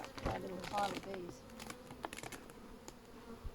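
Honey bees from a colony of about 50,000 buzz in a low, steady drone close to the microphone, with brief rustling and faint clicks over the hum and a livelier burst early on.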